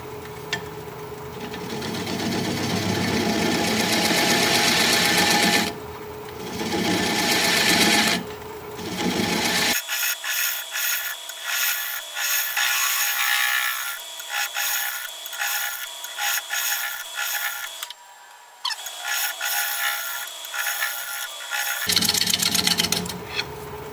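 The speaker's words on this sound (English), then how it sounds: "I'll just sand it while it's not spinning to get rid of those grooves." Abrasive sanding of a natural holly crotch piece on a wood lathe, a steady raspy rubbing that runs in repeated strokes with brief pauses, close and fairly loud, without talk.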